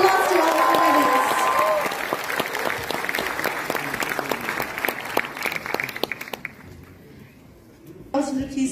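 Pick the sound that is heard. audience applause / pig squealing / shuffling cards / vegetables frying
audience applause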